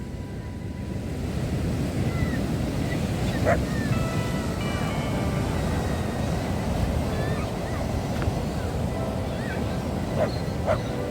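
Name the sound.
stormy sea waves on the shore in Odesa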